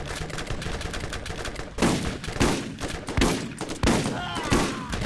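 Rapid shotgun blasts ring out in the Borderlands video game, a dense series of sharp, loud bursts in quick succession with brief gaps between volleys.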